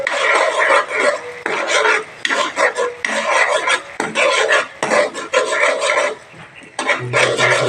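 Egg being stirred and mixed in a metal pan with a utensil, a loud, steady scraping and rubbing that runs almost without pause, with brief gaps between bursts.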